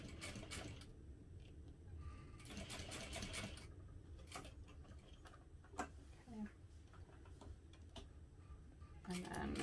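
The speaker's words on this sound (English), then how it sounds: "My sewing machine keep doing that." A home sewing machine stitches fabric for a holiday stocking, running in steady bursts of rapid mechanical ticking with pauses between runs, close and moderately loud, while someone talks intermittently over it.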